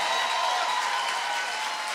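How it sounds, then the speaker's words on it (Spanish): Television show audience gives loud applause for Frank Quintero, a dense, even roar of clapping that holds steady throughout with a faint tonal hum underneath. "Un aplauso fuerte, por favor, al señor Fran Quintero."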